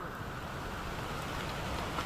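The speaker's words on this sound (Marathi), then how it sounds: "पाऊस जाम आहे" Heavy rain pours in a forest near Tungareshwar temple as a steady, close hiss of falling water with no breaks.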